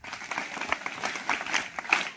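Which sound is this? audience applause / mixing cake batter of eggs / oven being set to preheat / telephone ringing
audience applause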